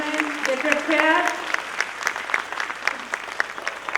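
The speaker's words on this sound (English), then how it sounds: "Thus, applause should continue, ladies and gentlemen." Audience applause at a preschool annual day stage performance, a steady patter of clapping from a crowd with children's voices and chatter mixed in, fading slightly toward the end.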